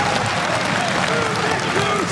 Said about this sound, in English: Applause for Russia.